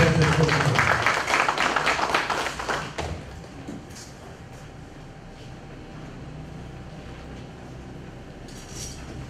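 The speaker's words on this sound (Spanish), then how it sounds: "Demos un aplauso al doctor Javier Inda Vázquez" An audience at a notarial law conference in Tarapoto gives brisk applause for a doctor who is about to speak, dense clapping fading out after about three seconds into quiet room tone with a few faint knocks.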